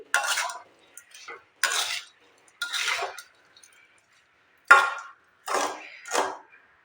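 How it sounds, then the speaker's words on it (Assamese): Lemons are stirred in a pan for lemon pickle, with no oil, giving a series of short scraping and clinking strokes separated by brief silences. "এইদৰে মই নেমুখিনি 2 মিনিট সময় ভালদৰে ইয়াতে লৰাই থাকিম"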